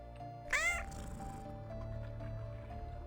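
A cat meows once in the video game Blood, a short, fairly loud rising-and-falling cry over a low background hum and faint game ambience.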